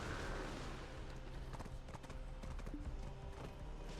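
Horse hooves clip-clop steadily in the video game Black Desert, a close, continuous trotting rhythm over a dense bed of game sound.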